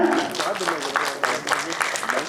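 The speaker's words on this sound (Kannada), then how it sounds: "ಪ್ರೀತಿಯ ಚಪ್ಪಾಳೆಯೊಂದಿಗೆ ಬರ್ಮಾಡ್ಕೊಳ್ಳೋಣ" An audience claps in welcome as actor Avinash comes onto the stage, a dense burst of applause with a voice speaking over the clapping.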